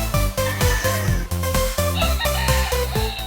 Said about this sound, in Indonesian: di balik suara kokok ayam Filipin